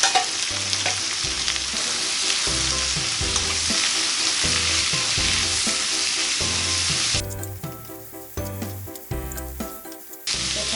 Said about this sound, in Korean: 살짝 볶다가 오뎅이랑 이렇게 넣어서